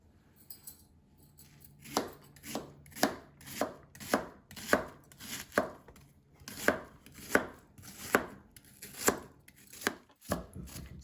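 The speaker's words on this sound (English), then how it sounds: "I'm just kind of finely chopping these as best as I can." A knife finely chops yellow onions on a cutting board for homemade refried beans. About fifteen crisp, evenly spaced chops follow one another in a steady rhythm, close and fairly quiet, with no talking.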